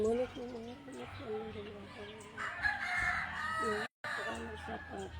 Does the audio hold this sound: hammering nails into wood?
no